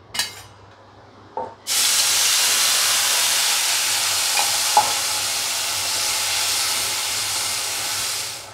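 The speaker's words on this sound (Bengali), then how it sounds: "এখন ভাজা ভাজা করি, সাঁতলাই" Spice paste hitting hot oil in a pan, bursting into a loud, close, steady sizzle after a brief quiet start and continuing unbroken for several seconds.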